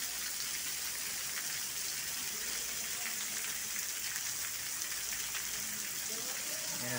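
Heavy rain pours down steadily in Holguín, Cuba, a dense, constant hiss of water falling on surfaces, close and loud throughout with no letup.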